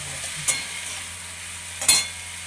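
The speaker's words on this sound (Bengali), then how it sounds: "পেঁয়াজ টমেটম আলু ভাজছি, ফোড়ন দেওয়ার পরে পেঁয়াজ টমেটম আলু দিয়ে একটু ভাজা ভাজা করে নেব।" Onion, tomato and potato fry in a pan over a medium gas flame, with a steady sizzle and two sharp bursts of a spoon stirring and scraping the pan.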